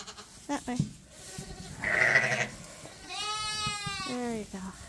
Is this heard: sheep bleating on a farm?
yes